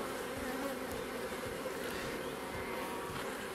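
Dense, steady hum of many honeybees crawling over a beehive frame during a hive inspection, continuous and close.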